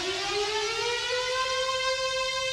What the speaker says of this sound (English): There's like a siren.